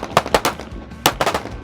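Shooters fire on a training range using laser sights, a close, sharp burst of about six gunshots in two quick clusters of rapid cracks.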